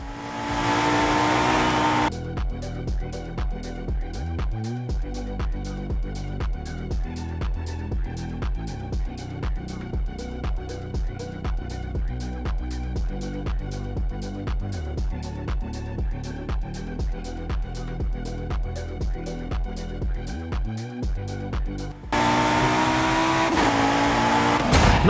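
Racing car engine in Forza Horizon 5, droning loud and steady at high revs with rapid rhythmic gear-shift pulses and brief dips, continuous and close throughout.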